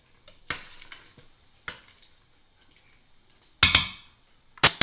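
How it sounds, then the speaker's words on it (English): A spoon stirring stuffed pepper soup in a cooking pot gives a few separate scraping clanks against the metal, three or four sharp bursts with quiet gaps between them, close and moderately loud. "Let's give it a stir."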